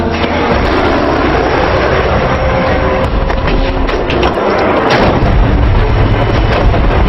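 A film shootout with FBI agents fills the soundtrack with loud, continuous gunfire and heavy blasts, dense and overwhelming, with a few sharper bangs punching through the roar.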